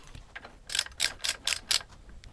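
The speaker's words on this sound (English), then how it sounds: "I'm going to torque it up to 50 foot-pounds" Torque wrench tightening the front suspension of a Triumph TR4, giving five crisp ratcheting clicks in an even rhythm, close and fairly quiet over a faint room background.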